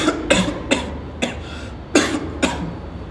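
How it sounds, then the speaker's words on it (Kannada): A sick child coughs in a series of sharp, separate bursts, about six in quick succession, close and fairly loud with brief quiet gaps between them, in a doctor's clinic. "ಕೆಮ್ಮಿ"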